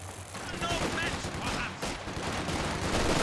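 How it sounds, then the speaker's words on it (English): Machine gun fire in the Company of Heroes 2 video game rattles on through dense battle noise for about three seconds, with a commentator talking over it. "Machine gun, though, is set up here, so stopping any flanks from that side."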